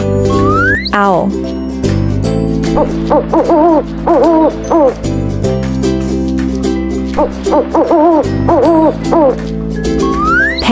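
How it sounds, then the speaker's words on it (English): An owl hoots in repeated calls, among other animals presented one after another for children, set against steady background music that carries a rising whistle-like tone. "Owl."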